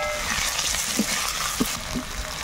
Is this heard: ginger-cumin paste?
yes